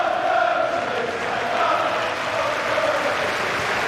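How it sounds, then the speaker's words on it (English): A football crowd at a Charlton Athletic match rises to its feet and chants in tribute to manager Alan Curbishley, a dense, steady roar of many voices echoing across the stadium at a distance. "the crowd at last rising to Alan Curbishley"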